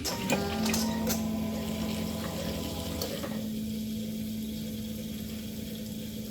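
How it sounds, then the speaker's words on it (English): A GSXR motorbike engine idles steadily with its water pump whirring and humming, a continuous mechanical drone with some clattering bursts near the start before settling into an even, moderately loud hum. "When I turn on the bike engine, the water pump's going to make some noise"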